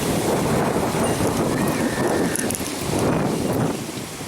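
Strong, steady wind on the Kerala coast under rain clouds buffets the microphone with a loud, continuous rush and rumble that barely lets up.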